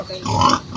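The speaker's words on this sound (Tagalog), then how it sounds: "Inahing baboy." A sow gives a short series of low, throaty grunts, close and fairly loud, lasting under a second.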